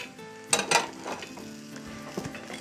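Steak sauce ingredients sautéing in a pan over low heat: a soft, steady sizzle with a few louder stirring scrapes and clinks of a utensil against the pan, close and without talk.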